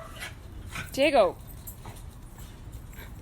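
A dog gives a short whimpering yelp close by, a brief rising cry over quiet room noise with faint movement around it and a single spoken word.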